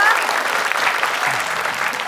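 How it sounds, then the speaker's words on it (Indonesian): Studio audience applause for contestants on an Indonesian television quiz and comedy game show, a dense, steady burst of clapping heard up close for about two seconds without pause. "kita kasih tepuk tangan untuk para peserta kita"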